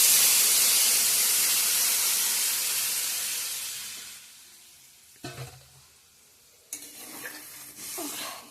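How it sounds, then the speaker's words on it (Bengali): Water poured into a hot frying pan after frying sets off a loud hissing burst of steam that fades over several seconds, followed by a few clinks and scrapes of stirring close by. "ভাজা হয়ে গিয়েছে, এখন জল দিয়ে দেবো।"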